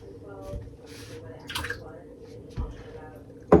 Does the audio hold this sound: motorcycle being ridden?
no